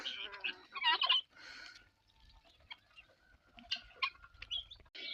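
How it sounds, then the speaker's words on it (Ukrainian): An old hen on a village farm, clucking nearby in short fowl calls with a louder burst at the start and more scattered clucks later, over quiet background. "Оце старенька курочка."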